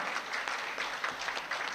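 A ceremony audience gives warm applause welcoming a news reporter, a soft, steady patter of many hands clapping at a distance, continuous with slight surges.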